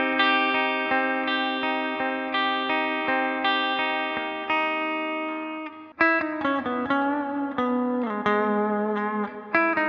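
Sustained electric guitar chords drenched in a long plate reverb with pre-delay from an IK ToneX rig, each strum ringing out into a smooth, lingering wash, played loud and alone with no voices.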